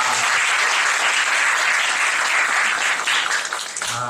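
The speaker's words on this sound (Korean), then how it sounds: "저희 한 번 더 하나님께 영광의 박수 올려드리시겠습니다." A congregation applauds in a youth worship service, with dense, sustained clapping filling the room for about four seconds before tapering off at the end.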